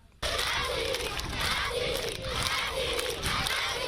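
A crowd of beneficiaries at a special school in Mali cheers and shouts in acclaim after a water donation from transition president Colonel Assimi Goïta. The loud, continuous roar of many voices bursts in suddenly and rises and falls in waves.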